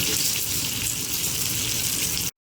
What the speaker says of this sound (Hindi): जैसे आप देख सकते हैं फ्राई हो रहे हैं